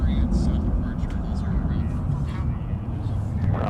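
Sun Country airliner at Minneapolis airport, a steady broadband jet engine roar filling the background throughout with low rumble, while people talk over it.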